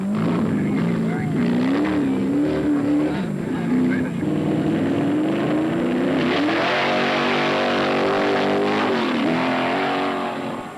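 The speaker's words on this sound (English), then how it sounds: "he was pushing the big Formula 5000 car just as hard as he could" A loud Formula 5000 race car engine roars continuously at a hillclimb, its pitch rising and falling through gear changes as it passes close by, with no talk.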